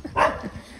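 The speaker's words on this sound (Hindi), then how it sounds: "मगरिब के टाइम मेरा ख्याल कुत्ते भौंकते हैं" A dog gives a single sharp bark at dusk, moderately close, followed by fainter yips and murmuring background noise.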